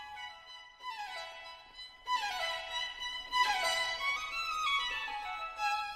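High, bright orchestral strings trill and flutter in quick birdlike runs and chirps imitating birdsong in a lively spring scene, played softly with no voices.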